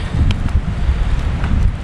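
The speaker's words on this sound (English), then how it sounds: "Very windy." Strong wind buffets the microphone with continuous low rumbling gusts, loud and unbroken throughout.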